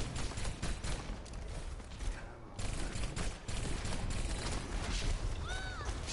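Sustained gunfire in the shooter Overwatch, a rapid stream of shots rattling almost without pause, dense and loud, with brief ability effects in between.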